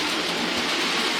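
A model Class 55 Deltic diesel locomotive runs on the track with a close, steady, dense rumble and hiss.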